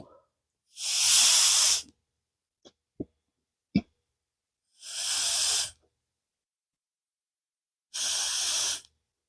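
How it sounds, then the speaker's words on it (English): Air hissing through a small-engine carburetor's needle and seat on a Murray machine, three strong bursts of about a second each separated by silence, plus a few faint brief clicks in between. "So now if I flip it over, just like this, you should hear some air."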